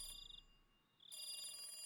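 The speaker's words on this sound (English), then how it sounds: "Right then, the phone rang." A telephone rings in the Higurashi video game, two electronic trilling bursts separated by a short pause, clear and fairly quiet with no voices.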